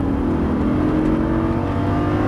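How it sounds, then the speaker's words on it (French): A Lamborghini Gallardo at full throttle on a track gives a loud, steady engine roar with dense harmonic whine, held close and constant throughout. "On accélère en double à gauche, gaz à fond, pleine charge, vas-y."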